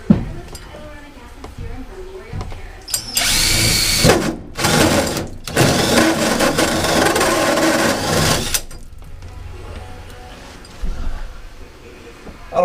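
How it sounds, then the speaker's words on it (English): Power drill boring a hole for a puck light in the ceiling of a Dodge Sprinter T1N van conversion, with several loud whining bursts broken by short pauses and some talk around them. "this will be my last puck light I have to drill"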